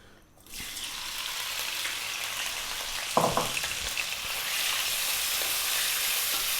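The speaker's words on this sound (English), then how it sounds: "we're going to drop our pork in and we're going to cook it for about 4 minutes" Pork drops into hot sunflower oil in a wok for a Chinese takeout-style stir-fry and starts a steady, loud sizzle. A brief clatter of stirring sounds partway through, then the frying hisses on without pause.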